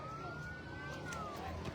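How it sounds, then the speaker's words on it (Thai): A fire truck's siren at a fire in Laos wails in a slow rising and falling tone, fairly distant and faint, over background rumble and scattered clatter. "รถดับเพลิงมาแล้ว"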